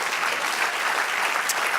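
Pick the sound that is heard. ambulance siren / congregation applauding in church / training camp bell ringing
congregation applauding in church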